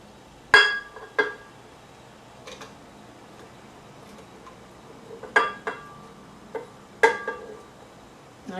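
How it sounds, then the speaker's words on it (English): Tomatoes for a tomato and avocado gazpacho drop into a glass blender jar, giving a few sharp clinks and knocks spaced out against an otherwise quiet kitchen. "just put most of the ingredients here in the blender"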